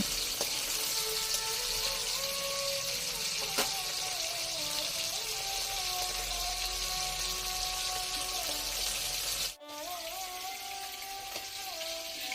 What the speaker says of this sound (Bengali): আমি হালকা করে এখানে ল্যাঠা মাছগুলোকে এদিক ওদিক করে ভেজে নেব